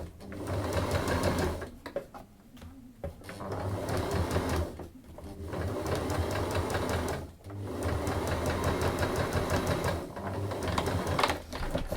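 A domestic sewing machine stitches a curved seam on a simple Japanese bag in short bursts, loud close whirring runs of a few seconds each separated by brief pauses.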